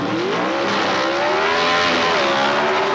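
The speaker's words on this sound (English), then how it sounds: "High RPM as they both leave the line together." Two drag race cars, a Dodge and a Chevrolet Monza with small block engines, launch together at the 1979 NHRA Gatornationals, engines screaming at high RPM in a loud, sustained, rising roar.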